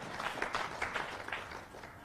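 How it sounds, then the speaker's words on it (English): A conference audience gives a quiet round of applause, a faint, thin patter of separate claps in an uneven rhythm that tapers off toward the end. "Give him a round of applause."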